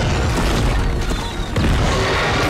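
Fireworks go off during a dramatic scene in a Stranger Things finale: loud, continuous booming and crackling bursts fill the whole stretch with dense, rumbling noise.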